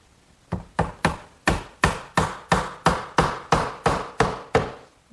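A 3/8-inch birch dowel is hammered into a glued hole in a wooden garden bench: about thirteen sharp, evenly spaced wooden knocks, loud and close, with no talking.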